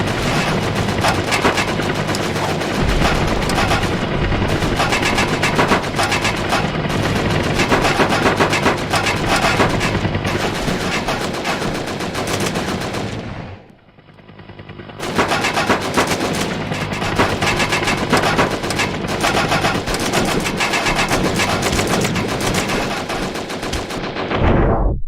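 Twin guns blaze in the VR shooter Operation Warcade, a dense, loud, continuous stream of rapid automatic fire lasting over ten seconds, a brief break, then another long sustained burst.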